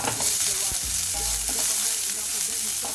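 Chopped onion fries in a pan for a restaurant-style crispy corn chilli, giving a steady, close sizzle with a few stirring scrapes and no one talking.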